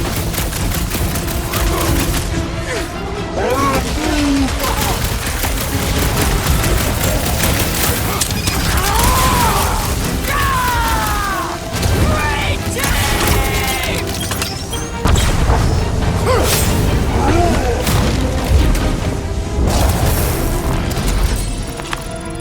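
Battle in the Guardians of the Galaxy video game: a steady barrage of gunfire and booming explosions runs throughout, loud and dense, with voices and chatter mixed over the combat.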